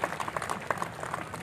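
Audience clapping at a Natrang Theatre show on drug abuse and communal harmony, a short burst of scattered, uneven hand claps from a modest crowd at moderate loudness.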